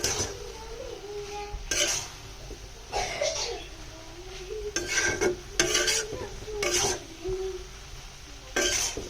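Vegetable and noodle stir-fry stirred in a pan with winter vegetables, with bursts of spatula scraping and clinking against the pan over a soft background sizzle, close and moderately loud, without talk.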